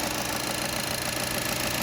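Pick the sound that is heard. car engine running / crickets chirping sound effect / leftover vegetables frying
car engine running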